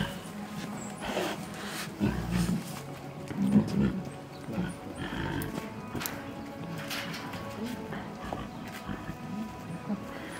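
Young Bengal tigers at a zoo in Yalta, Crimea, growl and rumble in low bursts through the clip, close and moderately loud, with a person talking and cooing to them in between.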